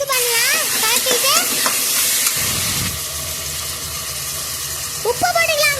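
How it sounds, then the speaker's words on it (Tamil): Tomato and onion fry and get stirred in a pan for brinji, a steady hissing sizzle with scraping under someone speaking Tamil, the sizzle continuing alone in the middle. "தக்காளி வெங்காயம் நல்லா மிக்ஸ் பண்ணலாம்."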